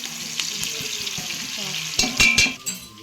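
Onions fry in oil with a bright, steady sizzle close up, joined near the end by a burst of louder stirring and scraping against the pot, no voices heard.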